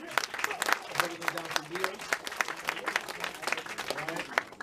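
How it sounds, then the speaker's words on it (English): Audience applause at a community lecture event, a steady patter of clapping throughout with voices talking over it. "Nicholas, clap it up for them as well."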